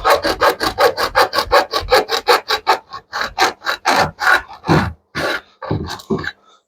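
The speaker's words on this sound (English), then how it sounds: "This is a hacksaw I'm using, a proper one. It can carve through metal, seemingly not GW's freaking plastic bottles." A metal-cutting hacksaw grinds through a plastic bottle in quick, rhythmic back-and-forth strokes, close and loud, that slow into fewer, heavier pulls toward the end.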